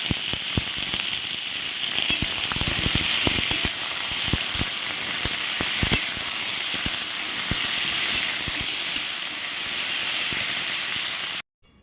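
Potatoes frying in a pan, producing a dense, loud sizzle of constant hiss and rapid popping crackles that runs steadily before cutting off abruptly at the end.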